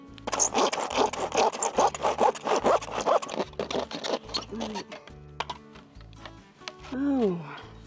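A handsaw cuts through wooden roof trim in rhythmic back-and-forth strokes, fast and close at first, then slowing into spaced strokes, with a voice speaking under the sawing toward the end.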